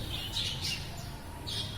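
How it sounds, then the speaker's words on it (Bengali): Budgerigars give a few faint, high chirps in short bursts over a quiet, hissy background at a bird market. "বদ্রি পাখিগুলো দেখতে পাচ্ছেন"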